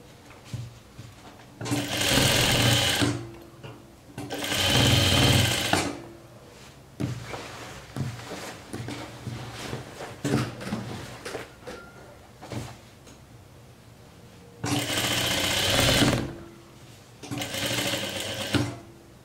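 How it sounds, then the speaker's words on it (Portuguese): A sewing machine runs in several bursts of rapid whirring stitches along the crotch seam of a jumpsuit, with quieter fabric handling and clicks between runs. "na hora de costurar o macacão"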